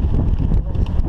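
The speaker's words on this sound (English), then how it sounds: "Yeah, the wind." Wind at a Welsh bike park buffets the microphone as a loud, steady low rumble, with no clear voices.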